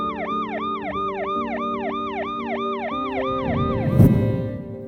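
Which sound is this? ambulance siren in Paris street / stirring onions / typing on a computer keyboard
ambulance siren in Paris street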